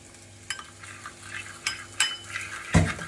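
Chinese noodles with vegetables and soy sauce stirred in a pan, a few scattered utensil scrapes and clinks over a low background hum, with one louder clatter near the end.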